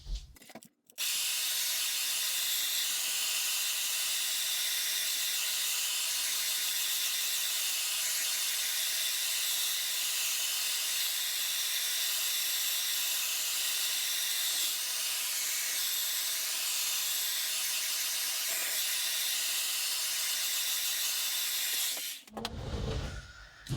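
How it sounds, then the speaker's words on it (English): A hair dryer blows steadily to dry watercolour paint on a colouring page, a loud, unbroken whooshing hiss held close for over twenty seconds before it cuts off with a click. "I'm gonna grab my hair dryer, we'll dry this"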